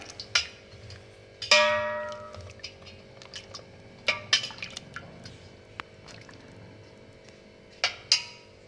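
Gulab jamun are stirred in hot sugar syrup, with soft liquid squishes and scattered light clinks of a spoon against the pot, irregular and close, with quiet pauses between.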